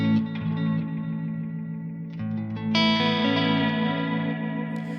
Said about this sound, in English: So you hear the feedback is really present, but we don't hear the heads of the first and third heads.